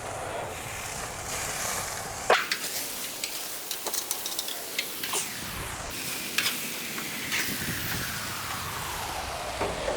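Chicken and steak taco meat sizzling in a pan, a loud steady hiss broken by a few clattering knocks and scrapes as pieces are flipped.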